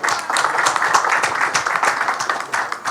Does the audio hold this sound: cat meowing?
no